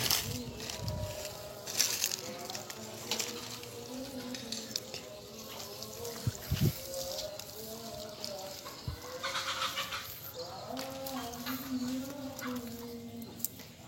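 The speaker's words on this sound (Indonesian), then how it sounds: "Kita bisa lihat ya teman-teman untuk cara penyiraman dari Mas Nastain pakai ember siram." Water splashes from a watering bucket onto chili seedlings outdoors, a soft, irregular patter and trickle mixed with voices and other faint outdoor sounds.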